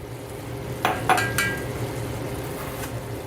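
Ground meat for lasagna browns in a pan with a soft, steady sizzle, broken by a few sharp clinks and scrapes of a utensil against the pan midway.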